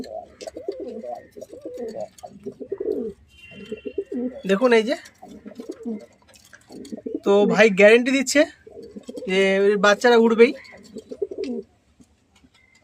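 Pigeons coo softly in low, throaty bursts on a sunny rooftop, heard close by while someone talks over them for most of the stretch.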